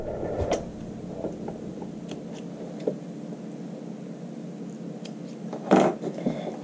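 A domestic sewing machine runs a short burst of back stitching along the inseam of a child's shorts, a steady mechanical whir with light clicks, ending in a louder clunk near the end.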